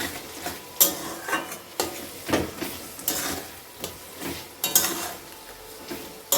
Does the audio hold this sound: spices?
yes